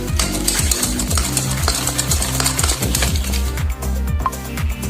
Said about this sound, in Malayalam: എന്നിട്ട് വീണ്ടും നല്ലോണം ബീറ്റ് ചെയ്യുക ഇതൊരു ക്രീമി ലൂസ് ആവുന്ന ക്രീമി ആവുന്ന ഇത് നമ്മൾ ക്രീമി ആവുന്നത് വരെ ബീറ്റ് ചെയ്തുകൊണ്ടിരിക്കണം